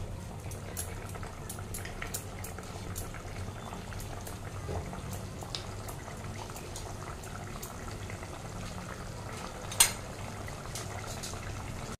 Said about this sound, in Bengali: এবার ঝোলের সাথে ভালো করে একটু ফুটিয়ে নেব।